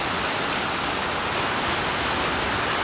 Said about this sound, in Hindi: अचानक से बारिश आया है।